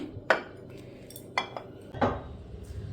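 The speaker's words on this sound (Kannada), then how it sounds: "ಒಂದು ಬಟ್ಲನ್ನು ಕವರ್ ಮಾಡಿ ಇಟ್ಬಿಡ್ತೀನಿ" A bowl is set over button badusha dough in a home kitchen, making three or four distinct clanks of metal and crockery at close range, separated by short pauses, with quiet room tone between.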